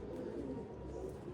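A pair of Malawi pigeons kept at a home loft coo in a low, continuous, rolling murmur, close by and fairly soft, with no voices over it.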